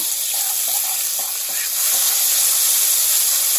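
Leftover tomatoes and onions sizzle in a warm pan, a close, constant frying hiss with a few light scrapes early on, swelling slightly louder partway through.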